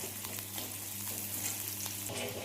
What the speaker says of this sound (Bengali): তো দেখো এদিকে পেঁয়াজটা ভাজতে বসিয়ে দিয়েছি, পেঁয়াজটা ভাজা হচ্ছে